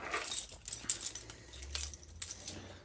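Keys jangle close by in short, bright metallic bursts that come and go irregularly over a few seconds, with faint background noise and no talk.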